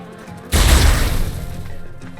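A single loud, close gunshot booms in Ark on the Sanctuary map, with a long rumbling tail that fades slowly.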